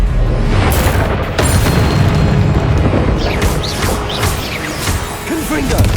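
In Hogwarts Legacy, the Expelliarmus spell goes off with a loud booming crash and crackling magical burst, followed by a sustained rumble and scattered impact sounds while voices speak over the action.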